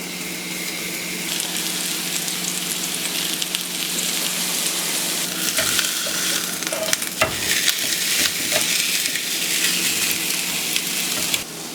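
Hamburgers fry on a hot butter-brushed grilling plate, giving a loud, continuous close-up sizzle with brief crackles and scraping stirs partway through.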